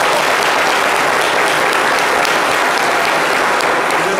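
Studio audience at a French talk show applauds a guest on stage, loud, close and dense clapping held evenly throughout.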